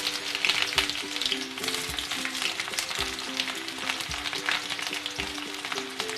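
Two bay leaves and sliced onions frying in hot oil give off a loud, steady, close sizzle that crackles continuously throughout, with a faint tonal hum running underneath.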